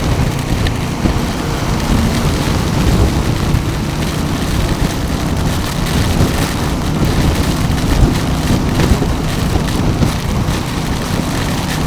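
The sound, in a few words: heavy rain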